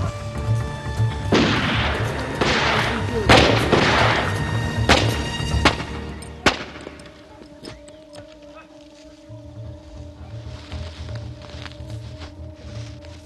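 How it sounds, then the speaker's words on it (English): Shotgun rounds fired at poachers in the African bush: a series of loud, close booming blasts in quick succession, then a sharp final shot and quieter ringing background. "Two shotgun rounds blasted at the nearest soldier sealed the fate of these poachers."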